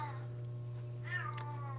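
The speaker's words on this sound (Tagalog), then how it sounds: "Nanghingi na ng tinapay yung pusa." A cat meows while begging for bread, giving a couple of faint, short meows over a steady low electrical hum.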